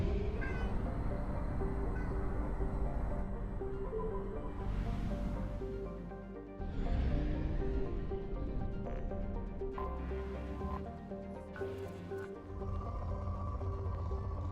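A cat meows several times, drawn-out and fairly close, over a dense bed of game music and ambient sound.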